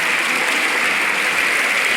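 Dense, steady applause from a large crowd at a London 2012 athletics event, loud and unbroken for the whole stretch, with no clear voices rising above it.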